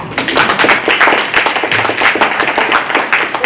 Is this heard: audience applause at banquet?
yes